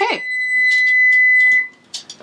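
A kitchen timer goes off while marinated chicken thighs bake in the oven. It gives one loud, steady electronic beep lasting about a second and a half, followed by brief clatter and faint rustling nearby.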